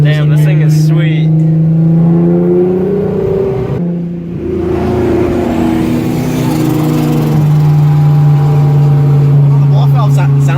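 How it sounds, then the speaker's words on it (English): A car engine revs loudly through an exhaust ball valve, a sustained droning tone that dips briefly and swells again, close by, with people talking over it. "The ball valve sounds kind of cool."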